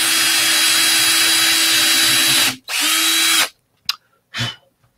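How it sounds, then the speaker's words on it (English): A power drill boring through plexiglass on an arcade cabinet mod, a loud steady whine for about two and a half seconds, a brief stop, another short burst, then a few quick spurts before it falls silent. "Anytime I drill through plexi, like, I get nervous."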